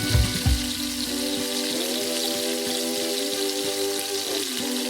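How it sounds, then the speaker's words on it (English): Chopped garlic and onion sizzle with cooked ground pork in hot oil in a pan for pancit palabok, a loud, steady frying hiss after a brief clatter, heard close with no voices. "add oil to the hot pan and sauté your chopped garlic and onion"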